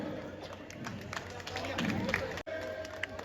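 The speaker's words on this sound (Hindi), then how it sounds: "जोरदार तालियां इनके लिए।" Audience applause at a Ramlila award ceremony in Saharanpur, faint and distant, with a spoken voice running over the clapping throughout.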